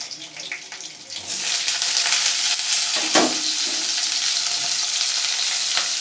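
Onions dropped into hot mustard oil with nigella seeds and crushed garlic, the sizzle swelling loudly after a quiet start and holding a steady, close hiss with a few stirring clicks.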